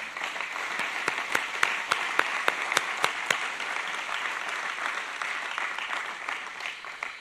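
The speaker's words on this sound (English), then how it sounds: "I think that's worth an applause." An audience applauds at the grand opening of the Veramaris facility in Blair, USA, with a few sharp, distinct claps standing out early before the clapping settles into a steady wash that slowly fades.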